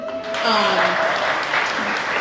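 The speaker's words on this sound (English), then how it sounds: "give a round of applause to my husband" Class audience applauding a woman's husband at an improv comedy session, a short burst of steady clapping with some voices and cheers mixed in.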